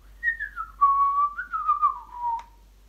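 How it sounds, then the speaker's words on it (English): A person whistles a single clear, wavering tune that slides downward with small rises, close and alone in a quiet room, lasting a few seconds without any speech. "I can whistle."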